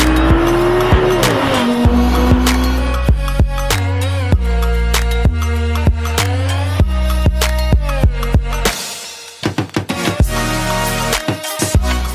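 A high-revving V10 engine in an Audi R8 GT screaming loudly as it climbs through gears with sharp shifts, then roaring and popping as it passes close by.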